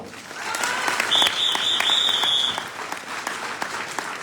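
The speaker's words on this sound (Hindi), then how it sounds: "ताली जोरदार बजाया करो" A crowd at a meeting claps loudly and steadily, with scattered sharper claps and a brief high whistle or feedback tone partway through.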